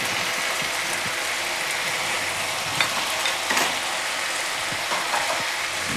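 Potato curry with kasuri methi stir-frying in a pan, a steady close sizzle and crackle of frying throughout with scattered scraping and stirring clicks from the utensil against the pan.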